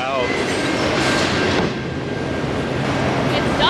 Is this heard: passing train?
yes